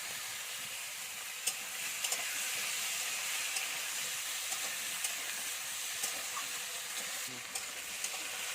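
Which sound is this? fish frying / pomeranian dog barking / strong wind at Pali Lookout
fish frying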